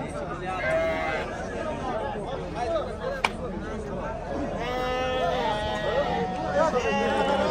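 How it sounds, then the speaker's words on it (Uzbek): Lambs and sheep bleat repeatedly at a livestock market in Muzrabot, Surkhandarya, with several overlapping calls near and farther off beneath steady talk and crowd chatter. "Mana qo'zlarimiz."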